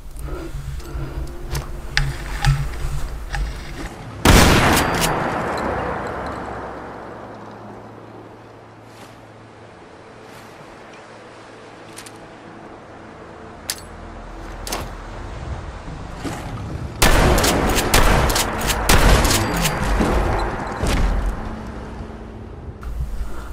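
Ithaca and hunting shotguns fired in Fallout 4, a heavy blast near the start followed after a long quiet stretch by a cluster of loud, sharp shots with some clatter between them.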